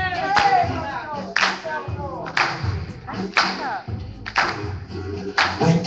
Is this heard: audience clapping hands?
yes